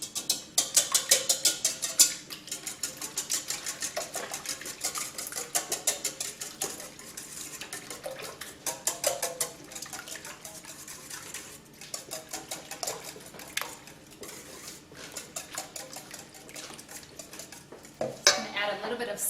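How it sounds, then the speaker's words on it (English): Eggs being whisked by hand in a bowl for an Easter brunch, a fast, continuous rattling tick of the whisk against the bowl's sides, fairly close and rhythmic, with brief pauses and a louder clatter near the end. "We're just going to whisk the eggs."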